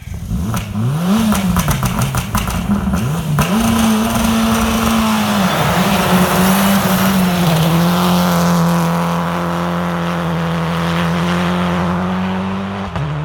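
A modern Citroen DS3 rally car on a special stage of the Pirelli International Rally, its engine loud and close, revving and surging with a steady rising and falling roar after a stall, no talk over it.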